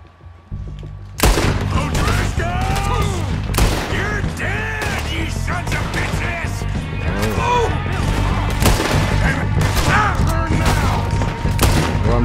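Rapid volleys of gunfire from the Red Dead Redemption 2 video game, loud and dense, with overlapping shots and cracks after a brief quiet start and continuing for the rest of the clip.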